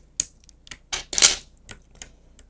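Keys on a mechanical keyboard clack in an uneven run of sharp, close taps, some louder than others, with short pauses between them and no talking.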